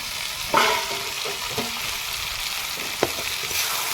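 Goat head curry stirred in a pan once the lid is lifted, a steady close sizzle with scraping stirs and a couple of sharp clinks of the utensil against the pan.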